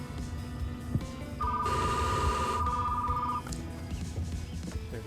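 A telephone ringing in the background of the video game Retro Rewind, a steady electronic ring lasting about two seconds amid faint shop ambience.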